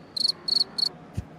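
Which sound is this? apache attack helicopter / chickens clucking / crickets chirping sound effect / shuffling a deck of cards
crickets chirping sound effect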